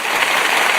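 Hands clapping together in a quick, dense patter, like a small burst of applause, loud and close for a brief moment.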